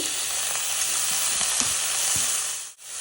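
Finely chopped cabbage, beans and other vegetables sautéing in a pan for veg fried rice, a loud steady sizzle with faint stirring taps, dipping briefly near the end.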